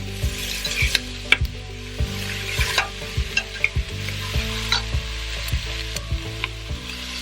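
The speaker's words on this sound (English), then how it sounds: "I'm just getting those sauteed, and then I'm going to add some garlic." Vegetables sauté in a hot pan with a loud continuous sizzle, while a utensil stirs and scrapes the pan in regular rhythmic strokes, close by, with no voices.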